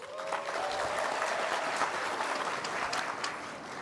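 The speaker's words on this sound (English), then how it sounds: "Please give ladies a round of applause." Sustained audience applause fills a graduation ceremony hall at Durban University of Technology in Pietermaritzburg, a dense steady wash of clapping that holds at full strength throughout, with a faint tonal whistle or voice trace early on.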